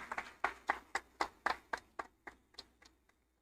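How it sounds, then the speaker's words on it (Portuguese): Clapping from a church congregation, about a dozen crisp, evenly spaced claps that slowly fade, sounding close and sparse rather than a full roaring applause. "dê uma linda salva de palmas para o Senhor"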